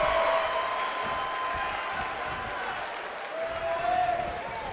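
A virtual arena crowd in WWE 2K19 roars and applauds steadily during an NXT women's match, with a commentator talking over it.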